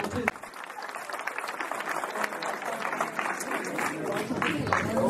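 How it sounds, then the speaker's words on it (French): An audience applauds a candidate at a French municipal election gathering, with steady, dense clapping that carries on throughout, fairly loud and close, with a few voices mixed in. "vous pouvez applaudir encore une fois notre candidat"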